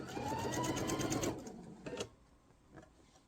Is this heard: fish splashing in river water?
no